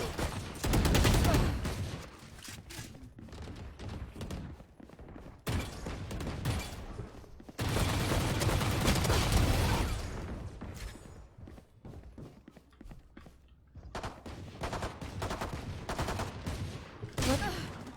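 Rapid pistol gunfire in a video game pops in dense, loud volleys that stop and restart several times over the stretch, with brief quieter gaps between bursts.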